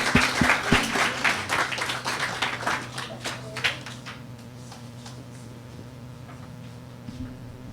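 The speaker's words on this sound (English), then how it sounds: "Let's welcome Marvin with a big round of applause" An audience at an outdoor peace event claps to welcome a drummer, individual claps loud and close at first, then thinning out and fading to a faint scatter within a few seconds, with some voices murmuring underneath.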